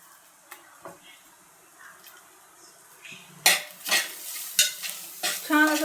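Grated coconut is stirred in hot ghee in a pan over low flame, a soft sizzle under intermittent scrapes and clinks of a spoon against the pan, growing busier toward the end.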